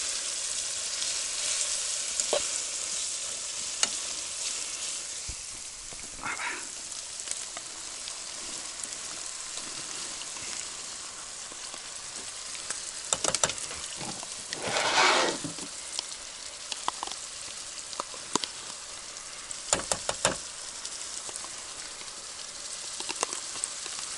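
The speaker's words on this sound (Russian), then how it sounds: "Чуть-чуть поджарим сейчас и сметаночку." Hearts fry with sour cream in a pan at a taiga camp, giving a steady, loud sizzle and crackle with occasional brighter pops and spatters, and no talking.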